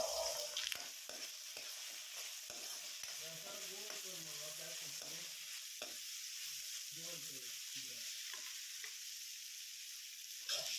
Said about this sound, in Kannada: ಈಗ ಟೊಮೆಟೊ ಚೆನ್ನಾಗಿ ಫ್ರೈ ಆಗಿದೆ